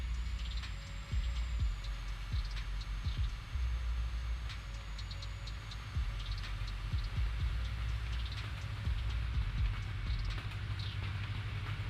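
A train rumbles past in the video game American Truck Simulator, a steady low roar with clattering wheel knocks and a faint high tone, continuous and fairly close for about twelve seconds without talk.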